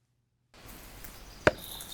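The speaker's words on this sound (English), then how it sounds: "So he's chopping wood." A single sharp chop of an axe into wood lands once, brief and fairly close, over a steady hiss of room noise after a moment of silence.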